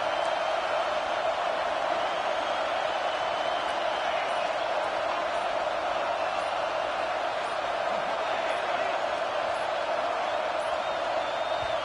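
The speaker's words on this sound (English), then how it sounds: "The roar of the crowd trying to fuel this defense to keep them pinned in their own end." A steady, dense roar from a big football stadium crowd as the home defense tries to pin the other side deep, holding loud and constant with no break.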